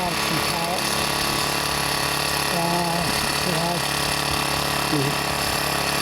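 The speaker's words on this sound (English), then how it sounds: "sorry about the wind, it's now picking up again" Wind buffeting a microphone outdoors in a garden plot in January, a loud, steady roaring rumble that fills the whole clip, with a voice speaking intermittently underneath.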